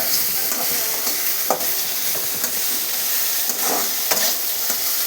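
Garlic sautés in a hot pan with a steady, dense sizzle throughout, broken by occasional scraping strokes of a spatula stirring it, close and fairly loud with no voices.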